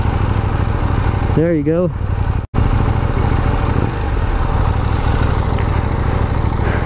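A KTM Duke 790 motorcycle engine idles steadily at low revs, a loud, continuous rumble running throughout while someone briefly speaks over it.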